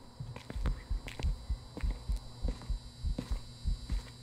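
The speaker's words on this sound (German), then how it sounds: "ich hab immer mal wieder deinen Herzschlag" Rhythmic heartbeat thumps in the Phasmophobia horror game, a steady double-pulse repeating about once every half second over a constant low hum, with no voices.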